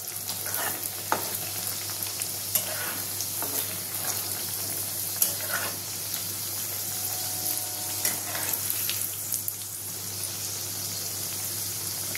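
Stuffed vegetable paratha fries in a pan with a continuous oily sizzle and a few sharp clicks and pops throughout.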